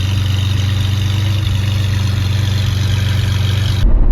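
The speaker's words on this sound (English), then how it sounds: "getting the Testarossa up to running temperature" A Ferrari Testarossa engine runs steadily while warming up, a loud, close, even low hum with a smooth drone, cutting off abruptly near the end.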